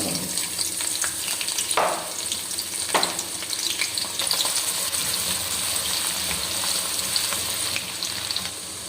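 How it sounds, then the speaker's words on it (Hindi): Onions frying in hot oil as the first step of a mixed vegetable curry with aloo, moongre and peas, giving a steady broadband sizzle with a couple of brief scraping stirs, close and continuous with no talk. "तो ऑयल गरम है, इसके बाद हमने सबसे पहले प्याज डाल देना है।"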